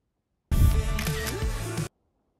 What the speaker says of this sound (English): I'll add an iPhone shutter effect